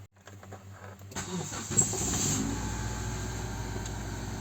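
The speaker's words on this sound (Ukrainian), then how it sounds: "Запускаємо двигун, але з першого разу може заглохнути." A Hyundai Santa Fe engine cranks briefly, catches, and settles into a steady idle that continues to the end.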